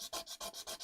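Rhythmic back-and-forth sanding strokes rasp against a wet 1978 Fender Stratocaster guitar body, about four quick passes in under a second, close and fairly quiet.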